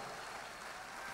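A church audience claps in a dense, steady burst of applause at moderate distance, brief and continuous with no voices.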